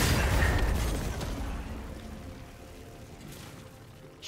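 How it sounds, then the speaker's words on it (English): A turret is destroyed in League of Legends with a loud explosive boom that rumbles and slowly fades over a few seconds. "Blue team's turret has been destroyed."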